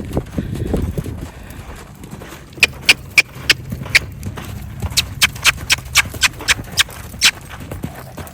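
A horse runs loose past another horse in a training session, its hooves clip-clopping in a quick, rhythmic series of sharp strikes that grow louder, following a brief low rumble at the start.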